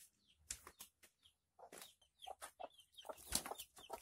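Farm chickens clucking and flapping as they peck at maggots, a run of close, irregular clucks and wing flutters, with no talk.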